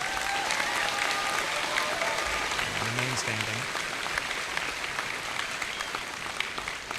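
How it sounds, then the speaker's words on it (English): Audience applause at a high school graduation ceremony, a steady, dense clapping that fills the hall throughout while a voice speaks briefly over it. "Let's give her a round of applause"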